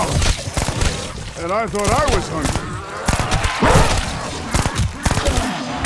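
A legendary PPSh submachine gun fires in Call of Duty Vanguard Zombies, with rapid, loud bursts of shots and impacts mixed with game effects while a player talks over the gunfire.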